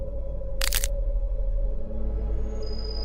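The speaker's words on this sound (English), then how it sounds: "making a cracking sound as they go." A single sharp crack as pieces fall off a face in the horror game (Don't) Open Your Eyes, a brief bright burst over a steady low droning background.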